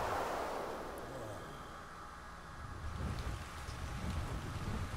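Rain falling in the survival game Ark Survival Evolved on the Ragnarok map, a steady broad hiss of downpour with low rumbling underneath, moderately loud and continuous with no voices.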